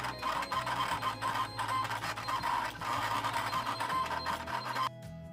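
A Silhouette cutting machine whirs and buzzes as it cuts sign letters, steady motor drone with stepping tones and shifting pitch, close by, then it stops and a quieter hum remains.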